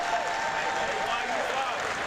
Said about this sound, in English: all on their feet and applauding the effort by their Cardinals here today